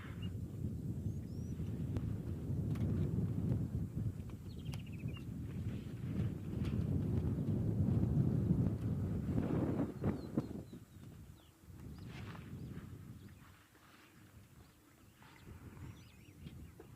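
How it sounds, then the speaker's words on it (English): Wind blows in a steady low rush outdoors in Madikwe, gusting stronger for several seconds before easing off, with faint scattered bird calls. "It's another windy day for Madikwe. It's been a windy few weeks, so you may hear the wind"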